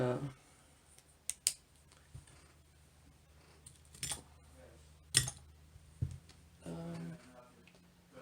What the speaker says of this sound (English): so I don't know if you want to watch me cut this out or not, but here we go.